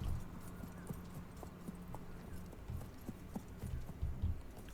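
A horse's hooves clip-clop in the Wild West Online video game, a quiet, fairly steady run of soft thuds with an occasional louder strike near the end.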